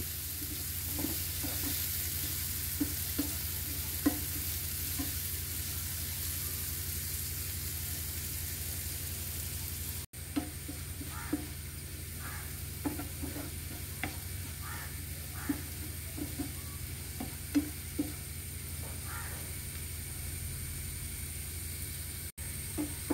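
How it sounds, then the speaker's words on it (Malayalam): Chopped nutmeg softens in oil with spices for a pickle, giving a soft, steady sizzle, with periodic light scraping and clicking from stirring over the quiet frying. "നമുക്ക് ചേർക്കാം. ഒന്ന് വാട്ടിയെടുക്കണം. ഫ്രൈ ആക്കണ്ട, ഒന്ന് വാട്ടിയാൽ മതി."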